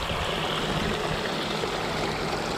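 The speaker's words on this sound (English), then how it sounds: "Then you see their custom waterfall feature." A custom waterfall feature at a Montana RV resort overlooking Flathead Lake pours steadily, a continuous close splashing rush of falling water with no voices.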